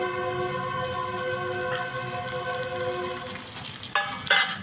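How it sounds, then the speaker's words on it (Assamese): Fried potatoes hit a hot pan and sizzle for a chicken curry, a steady crackle under a sustained tonal hum, with a few sharper stirring clatters near the end. "আৰু এতিয়া মই ভাজি থোৱা আলুখিনিও দি দিছোঁ ইয়াতে"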